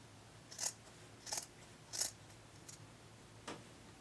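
Scissors trimming near a seam, with four quiet, separate snips spread over a few seconds against a soft background hush.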